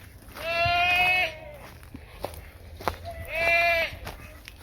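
Goats on a garden property beside a trimmed living fence give two loud, drawn-out bleats about three seconds apart, with quiet rustling and scattered small sounds between them.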